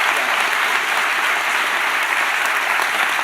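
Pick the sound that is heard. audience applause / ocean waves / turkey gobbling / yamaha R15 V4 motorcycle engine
audience applause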